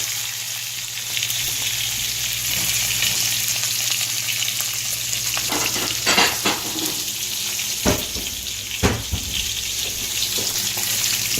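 Salmon skin crisps in a skillet with a steady, close hiss of sizzling oil, broken by a few sharp pops and clinks of a utensil; no voices.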